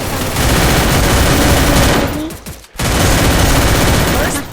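Rapid automatic gunfire from a Free Fire match, loud and continuous bursts that cut out briefly midway, then resume at full intensity.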